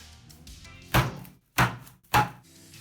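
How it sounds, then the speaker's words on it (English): Three hard, evenly spaced thuds as a heavy skillet pounds slices of pork loin thin on a kitchen counter, close and loud against a quiet room. "apply your heavy skillet and punch it a few times to make it a bit more thin"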